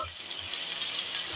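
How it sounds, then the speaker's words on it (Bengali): Potato pieces frying in a little oil in a wok, a steady high hiss of sizzling that holds evenly throughout with faint low knocks. "এই আলুটাকেও আমি সুন্দর করে ভাজা করে নেব।"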